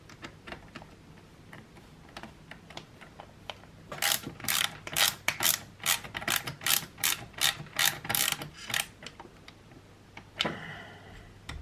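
Screws are tightened on a Tamiya TT-02 RC car build, a close run of about a dozen rhythmic ratcheting clicks in quick succession, with quieter handling noises before and after.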